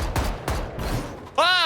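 Gunfire in a video game, two or three quick sharp shots in succession followed by a brief voice exclamation at the end.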